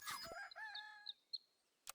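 A rooster crowing in the video game Super Auto Pets, a single short cock-a-doodle-doo call followed by a few faint clicks, heard alone without talk.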